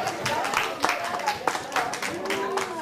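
Congregation at a Christian assembly service clapping along, a busy crowd patter with sharp accented claps, mixed under voices talking and calling out.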